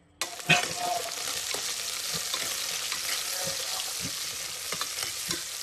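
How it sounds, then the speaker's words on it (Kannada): Onions and pulao spices drop into hot oil and ghee with a loud initial burst, then settle into a steady close-up sizzle with occasional soft stirring clicks. "ಈಗ ನಾನು ಈರುಳ್ಳಿ ಮತ್ತು ಪಲಾವ್ ಸಾಮಾನು ಇದಕ್ಕೆ ಹಾಕ್ಕೊಳ್ತೇನೆ"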